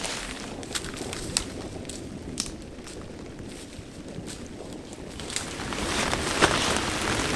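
Heavy rain falls on a solo campsite without a tent: a steady broadband hiss with scattered sharp droplet taps, swelling slightly louder toward the end, with no talk.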